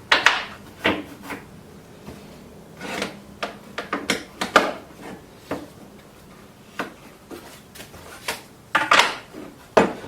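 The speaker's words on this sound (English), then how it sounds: "I'm just going to lock this down onto the table. I'm just using the Festool" A wooden workpiece is locked down onto a router table with Festool surface clamps, producing a run of close, sharp clicks, clacks and ratcheting knocks in irregular bursts, with no talking.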